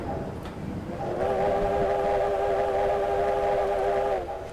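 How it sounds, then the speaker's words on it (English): A USATC S160 steam locomotive on the West Somerset Railway in Train Simulator gives one long, loud steam-whistle blast, lasting about three seconds over the engine's running rumble. "Just a bit of whistle for that."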